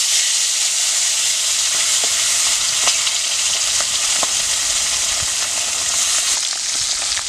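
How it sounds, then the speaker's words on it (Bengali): Pabda fish, salted, frying in hot oil, a steady close sizzle and crackle running throughout with scattered sharp pops, loud and unbroken, with no voices. "তেলটা গরম হয়ে গেছে, আমি এক এক করে মাছগুলো দিয়ে দেবো"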